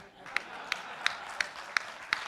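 A few slow, evenly spaced claps ring out at a leadership development session, about six sharp hand claps over a low murmur of room noise.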